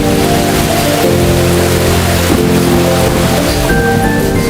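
Rain falls on a rainy day as a dense, steady hiss, loud and unbroken, with a low tonal drone of background music running beneath it and no speech.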